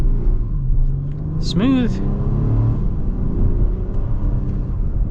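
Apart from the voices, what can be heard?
2025 Acura MDX A-Spec naturally aspirated V6 accelerating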